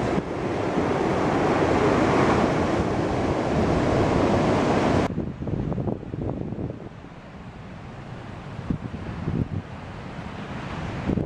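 Surf breaks and rushes loudly onto a nearly deserted beach in Vietnam, with heavy wind buffeting the microphone. The roar drops sharply partway through to quieter washing waves and gusts.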